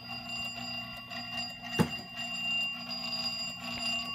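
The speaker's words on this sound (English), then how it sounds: "The bell's going." The jackpot bell of a Bally 873 slot machine rings in a continuous, muffled metallic trill at moderate volume, with a single sharp knock partway through.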